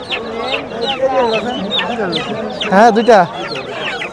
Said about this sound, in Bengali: দর্শক এই যে টাইগার মোরগ, এগুলো কত বড় হয় কাকা?